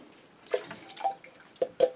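Cold water poured into a container while mixing film developer chemicals, heard as soft, irregular drips and splashes that are close and fairly quiet.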